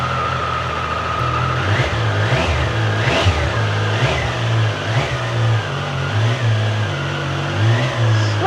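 A Triumph Tiger 800 Sport motorcycle engine runs steadily close by, a loud continuous mechanical drone with slight rhythmic rises in pitch and no talking.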